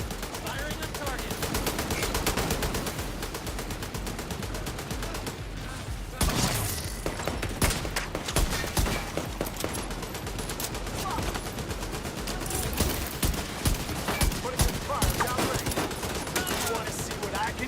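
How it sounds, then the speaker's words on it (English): Automatic gunfire in The Division 2 keeps up a dense rapid rattle for the whole stretch, with closer louder bursts breaking through and voices talking over it. "Firing on target."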